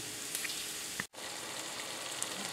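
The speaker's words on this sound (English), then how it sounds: "while this sizzling is going on" Soft, steady frying sizzle of vegetables sautéing in a multi-cooker pot, a faint hiss with a few small pops and a brief dropout partway through.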